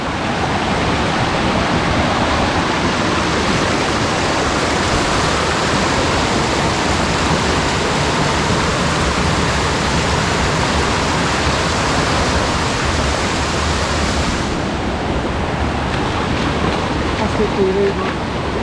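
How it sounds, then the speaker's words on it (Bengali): Strong stream water pours steadily at Muppochora waterfall in Belaichhari, Rangamati, a dense, loud, unbroken roar close by that continues throughout, easing only slightly near the end. "এখান থেকে পানি আসতেছে, ঝিরির পানি, প্রবল স্রোতে"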